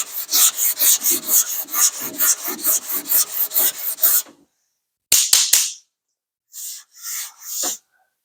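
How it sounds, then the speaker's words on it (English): A sanding block rasps back and forth over 2K primer on a car panel in quick, even strokes, loud and close. It pauses, then a few taps and shorter scrubbing strokes follow. "But I'm gonna keep sanding this way with this."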